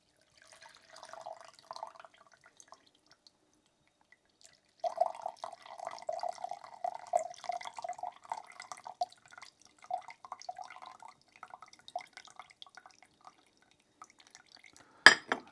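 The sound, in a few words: herbal honey drink filtering through a strainer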